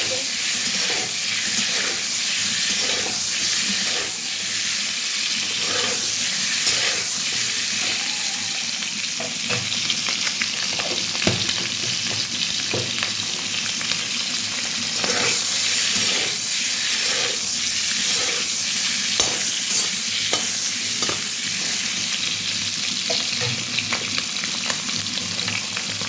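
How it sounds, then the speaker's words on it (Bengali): Eggs fry in hot oil with turmeric, giving a loud, unbroken sizzle and hiss for nearly half a minute, broken by intermittent sharp clicks and scrapes of stirring. "আপনারা ডিম ভাজার সময় তেলের উপর একটু বেশি করে হলুদ দিয়ে দেবেন"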